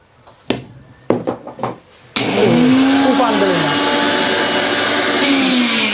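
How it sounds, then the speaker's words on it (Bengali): A Tufan 2000-watt copper-motor kitchen blender starts up after a few knocks and clicks while being set on its base, then runs at a loud, steady high-speed whine with a rising and falling pitch, close by. "এই ব্লেন্ডার কি চলে"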